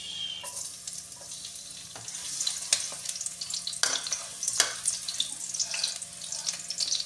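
Garlic dropped into hot oil for chicken liver adobo, a steady close sizzle with occasional stirring scrapes and clinks, no talking.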